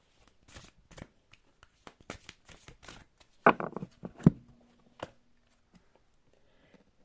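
Tarot cards are shuffled and drawn in a quiet room, with soft rapid riffling and sliding patters followed by a few crisp flicks and taps as cards are laid down.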